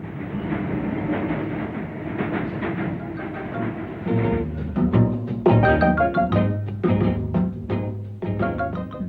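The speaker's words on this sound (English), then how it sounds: "British-built locomotives in New South Wales. These may well be hauling goods destined to go to Britain in return." Trains hauling goods in New South Wales in 1959, with a continuous rumble and rail clatter throughout that turns more pronounced and tonal about halfway through, with sharp clanks and metallic rings.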